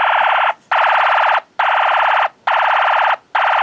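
A Snap Circuits alarm IC signal picked up on an AM radio comes through as a loud, buzzy electronic tone pulsing in regular bursts of roughly a second each, separated by short gaps of silence, with no voices.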